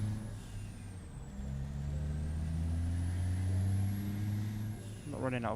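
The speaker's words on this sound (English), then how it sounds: "That Jake brake sounded really nice." A truck in American Truck Simulator engine-braking with its Jake brake, a steady low droning rumble holding for several seconds under faint road noise, with a short voice near the end.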